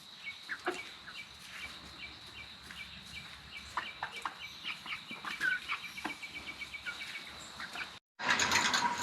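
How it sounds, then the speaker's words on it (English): A pulley mechanism on a chicken coop door gives off a run of soft ratcheting clicks and creaks, with chickens clucking faintly nearby, before a louder burst of noise at the end. "We have a pulley and everything."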